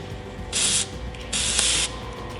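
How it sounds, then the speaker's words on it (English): Goop is sprayed from an aerosol can onto the adjustable links of a 2022 Polaris RZR XP 1000 Highlifter, two distinct hissing bursts over a steady background hum. "Spray them with a little bit of goop."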